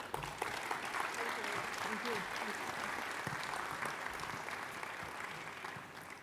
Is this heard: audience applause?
yes